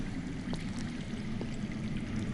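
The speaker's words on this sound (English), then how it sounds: "That's water. I hear water. From underground." Underground water flowing in the Game of Thrones Telltale adventure game, a faint steady rushing trickle that continues without pause, with no voices over it.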